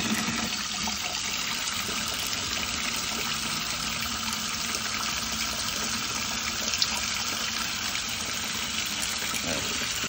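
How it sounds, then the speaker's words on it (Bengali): Water pours steadily into a container holding live fish, a continuous close rushing and splashing stream that stays even in level throughout. "আর একটু জল দিয়ে দিই।"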